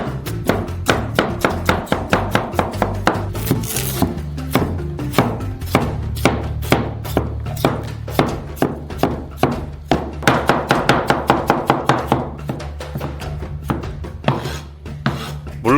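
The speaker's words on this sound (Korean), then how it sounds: "깨끗해진 감자를 조각으로 자르고" Rapid, steady knife chops cutting potatoes into pieces on a cutting board, dozens of crisp close strikes in quick rhythm, with a brief scraping sound partway through.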